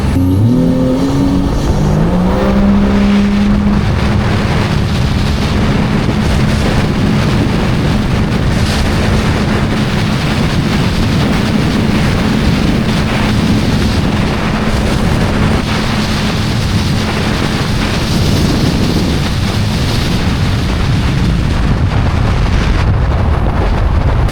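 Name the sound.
2024 Sea-Doo RXP-X 325 jet ski running over 80 mph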